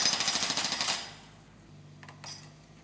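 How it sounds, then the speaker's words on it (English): A pneumatic breaker hammers concrete for a new footpath, a loud rapid pulsing burst of strikes that cuts off after about a second, leaving quieter site rumble and a couple of brief metallic clinks. "The breaker scratches, scrapes, and hammers away."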